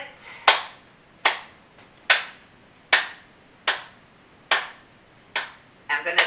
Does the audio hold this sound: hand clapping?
yes